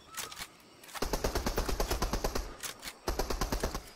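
Rapid bursts of MK 7 assault rifle fire in Fortnite, several sharp evenly spaced shot volleys separated by brief pauses, close and punchy with no talking.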